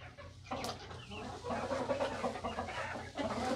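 Chickens clucking inside a barn chicken coop, a flock of over twenty birds giving repeated close clucks and murmurs, with a brief louder call, continuous throughout.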